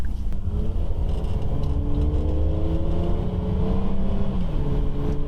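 A car on a road test after fitting poly upper engine-mount bushings gives a steady, loud engine drone and road rumble that holds evenly throughout, with no talking.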